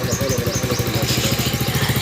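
A motorbike engine idles close by with a rapid, steady putter and a faint clatter. The rhythm holds even for about two seconds, and no one speaks.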